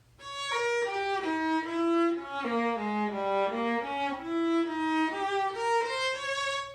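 A solo viola plays a flowing passage from Kreutzer Etude No. 26, notes rising and falling in a steady line, clear and close with no talking.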